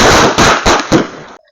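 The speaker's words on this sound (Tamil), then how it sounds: "இது ஒரு மிளகா பட்டாசு தரேன்னு நினைக்கிறேன். சரி வச்சு பார்த்துடலாம் வாங்க." A Gokulam chilli firecracker goes off close by in a rapid, dense crackle of loud pops that lasts over a second and ends abruptly.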